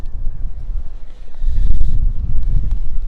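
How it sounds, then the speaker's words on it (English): Strong, cold wind gusts across an open farm field, rumbling and buffeting the microphone in heavy low surges that swell louder midway and stay rough to the end, with no talking. "It's got really windy and really cold."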